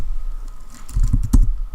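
Short burst of typing a command on a computer keyboard, a quick run of close, crisp key clicks with a louder keystroke near the end, no talk.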